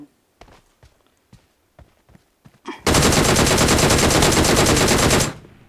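Sustained automatic gunfire in the mobile game PUBG Mobile bursts out loud and close for a couple of seconds, after a series of soft, evenly spaced footsteps.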